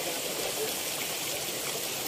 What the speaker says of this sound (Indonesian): Di sini kita sudah menemukan air terjun ya.